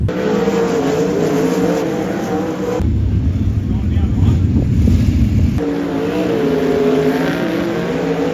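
Roaring engines of sprint cars on a dirt track at Perth Motorplex sweep past loudly, a continuous throaty drone that swells and fades, with a person talking over the din.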